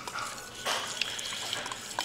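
Water pours and splashes into a pot of curried chicken, a close hissing rush with a few small drips and clinks, and no talking.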